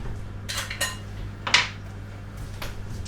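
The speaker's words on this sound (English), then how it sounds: "Just rinsing my tins out." Empty tomato tins being rinsed out in a kitchen: a few sharp metallic clinks and rattles close by, clustered in bursts over a low steady background hum, with no speech.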